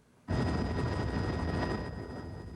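A news helicopter drops water over a 1993 mountain forest fire near Sacramento, its steady rotor roar starting abruptly and holding loud and close, with no talk.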